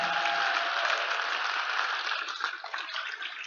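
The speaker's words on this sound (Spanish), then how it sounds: "Un aplauso para el Señor." Sustained applause from a church congregation for the Lord, a soft, even rush of many hands clapping that thins slightly toward the end.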